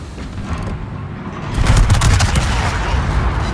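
The battleship Almirante Oquendo in a naval video game fires a broadside, heavy booming gunfire rolling into a loud sustained rumble of shots, with a voice talking underneath.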